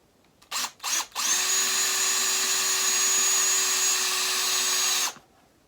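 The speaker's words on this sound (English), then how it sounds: "let me try that first to see how it drills" A power drill bores a hole for a guitar jack in a junk-built tennis racket diddley bow, with two short trigger bursts followed by a steady, close, loud whine lasting about four seconds before stopping.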